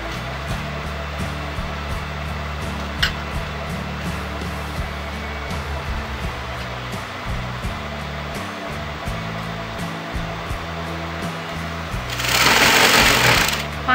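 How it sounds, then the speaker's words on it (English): Sewing machine stitching piping onto a kurti, a steady loud mechanical whir with stop-start rhythm, ending in a brief burst of louder hiss. "then you can sew the piping together"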